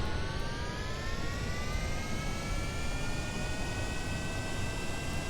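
A rocket engine running at half throttle in Kerbal Space Program: a steady, loud, continuous roaring drone with faint tones slowly rising in pitch, and no talking.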